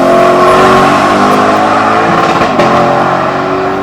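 A Lexus LC500's naturally aspirated V8 engine revving loud and close, a sustained rich roar with shifting pitch and one brief dip partway through, no voices.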